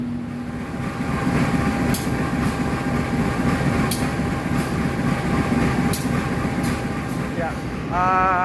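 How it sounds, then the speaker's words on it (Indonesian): An economy-class Dharmawangsa passenger train, KA 129, running on the Surabaya Pasar Turi to Jakarta line: a steady low rumble with a faint hum, broken by regular sharp clicks about every two seconds. "Sudah ada di samping saya rangkaian kereta api Dharma Wangsa dengan nomor perjalanan KA 129"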